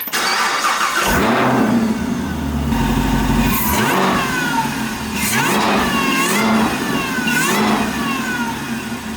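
A supercharged Chevrolet Camaro ZL1 engine with an MPI supercharger lid revs up and down repeatedly, loud and close, with rising and falling supercharger whines between bursts.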